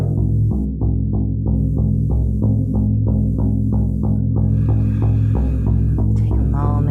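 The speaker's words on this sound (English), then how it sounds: "Do you hear this drum?" A shamanic drum is beaten in a steady, even rhythm of about two to three deep, booming strokes per second, loud and close with no other sound.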